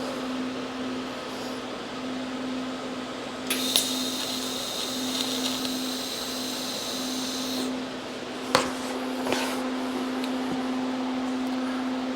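Tack welding on a 1981 Sportster hardtail frame gives a brief crackling, high-pitched buzz lasting a few seconds over a steady electrical hum, then a pair of sharp clanks close by.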